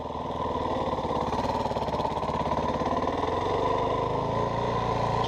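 Engine of a new dirt bike on its first ride, a steady buzzing drone that holds at a fairly constant pitch for several seconds, moderately near and continuous, with no one speaking.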